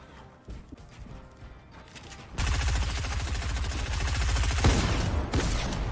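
Heavy, dense gunfire bursts out suddenly in a Fortnite match, a loud sustained rapid barrage of shots following a quieter stretch with scattered clicks and thumps.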